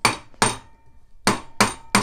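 Metallic hammer strikes on a ring band on a ring mandrel, five sharp blows in two bursts with a pause between, close and loud with a brief ringing tail.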